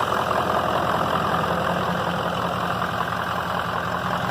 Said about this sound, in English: finally got this old 6-liter going again